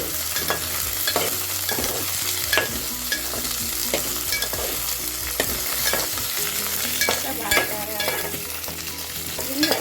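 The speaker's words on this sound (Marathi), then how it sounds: "थोडं भाजून घेऊया होत्या कांद्यात तो गुळगुळीतपणा जरा कमी" Onions roasting in a pan for a ladyfinger curry, sizzling steadily up close while a spatula scrapes and knocks against the metal in repeated stirring strokes, without any talk.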